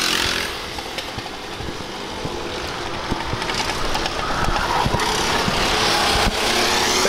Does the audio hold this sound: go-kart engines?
yes